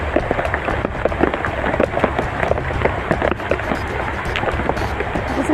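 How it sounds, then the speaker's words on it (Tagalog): Heavy rain pounds steadily on a surface nearby, a dense, loud patter with no pauses and no voices. "ang lakas na ulan"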